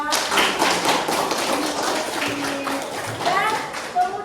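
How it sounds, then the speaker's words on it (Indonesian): A classroom group claps for the second team after its decorated personal letter is shown, a short burst of mixed children's hand claps and taps with voices chattering through it. "Tepuk tangan untuk kelompok 2."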